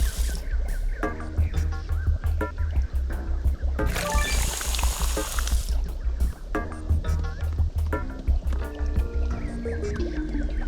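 Running water in the Adventure Time video game, a burst of rushing, pouring water in the middle that stands out over steady game music and tones.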